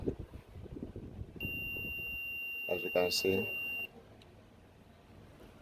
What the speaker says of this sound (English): the capacitor is shorted. It's reading with a beep sound.